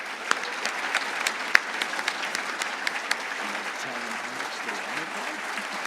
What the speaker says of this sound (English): I'd love you all to give them a round of applause